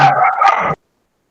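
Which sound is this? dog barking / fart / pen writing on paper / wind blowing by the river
dog barking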